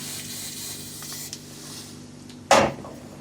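Short, sharp hiss of silicone spray from an aerosol can applied to a rubber O-ring on a Suzuki Samurai fuel pressure regulator, a single close burst after quiet workshop background.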